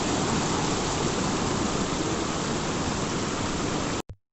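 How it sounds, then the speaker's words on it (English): Heavy water rushes down the Kuske waterfall in Canacona, South Goa, swollen after heavy rain, a loud, dense, continuous roar close by that cuts off abruptly at the end. "So due to the heavy rain, this is the amount of water which is flowing right down."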